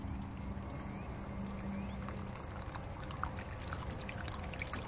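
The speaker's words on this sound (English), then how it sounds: "All we're doing right now is just turning on and off the city water supply." City supply water gushes steadily into a Coachmen Freelander motorhome's hot water tank with a continuous rushing, pouring wash, close and even throughout, with no talking.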